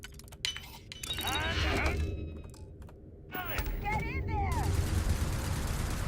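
Bursts of sci-fi gunfire echo in Starfield, with rapid crackling shots and whistling, chirping effects that come in two waves over a busy game soundscape.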